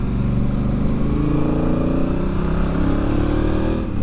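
A Honda Africa Twin motorcycle engine drones steadily on a winding Canary Islands road, loud and close throughout, with a constant rumble and wind, and no talk.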